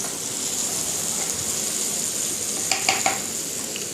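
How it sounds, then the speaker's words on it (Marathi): Green chili, dry coconut and coriander masala paste frying in a pan for chicken kharda, a steady close sizzle with a few sharp clicks of a spoon stirring near the end. "आणि याला छान फ्राय करायचं आहे"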